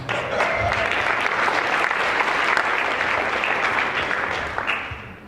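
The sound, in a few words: audience applause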